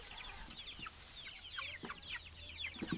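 Incubator-hatched chickens and a rooster clucking and chirping in a faint, busy chorus, with short repeated calls overlapping across the whole moment.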